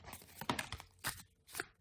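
Tarot cards being shuffled in short papery bursts, three or four quick riffles and slaps in a quiet room, faint and close, with no voices.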